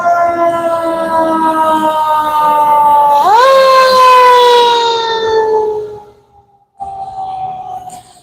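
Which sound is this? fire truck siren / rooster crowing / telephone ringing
fire truck siren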